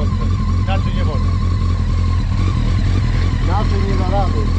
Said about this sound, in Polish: moto musi być rozgrzane.